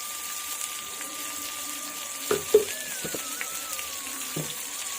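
Fish frying in ghee in a village-style pan over a low flame gives a steady, faint sizzle, broken by a few soft clatters and knocks near the middle.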